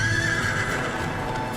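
A horse whinnies loudly, the long neigh over a busy background, as a rider swiftly mounts it before addressing his army in the Ertugrul Ghazi historical drama.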